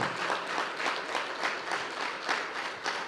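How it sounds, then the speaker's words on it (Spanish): A church congregation claps steadily and loudly for the Lord, a dense wash of applause with rhythmic pulses running throughout and no voices standing out. "Dele un fuerte aplauso al Señor"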